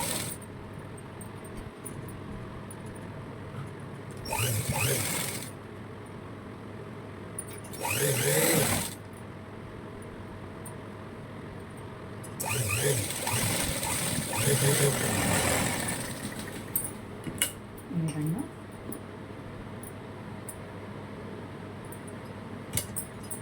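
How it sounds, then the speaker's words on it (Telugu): A sewing machine runs in short bursts while stitching the second seam at the shoulder of a boat neck blouse, with pauses between runs under a steady low background hum. "ఈ విధంగా రెండో కుట్టు కూడా ఇలా వేసుకొని భుజం దగ్గర క్లోజ్ చేసేసుకోవాలి"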